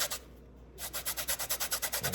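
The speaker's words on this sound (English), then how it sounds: "So we'll put some lemon zest in there." Lemon zest being grated, heard as a quick run of about a dozen evenly spaced, close scraping strokes after a brief initial rub, each a short raspy swish.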